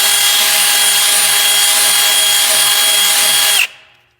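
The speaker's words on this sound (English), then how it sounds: "I got my little drill right here. And then I got this little bit." A small power drill with a little bit working on a 24-inch Amani Forged wheel rim for a 1995 Z28 whines loud and steady for several seconds, then cuts off and winds down.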